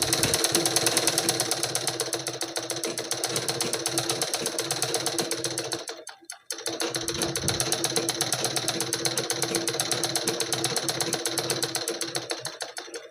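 Sewing machine running a double line of stitches on a blouse: a fast, even mechanical rattle, close and loud, briefly stopping near the middle before resuming at the same pace.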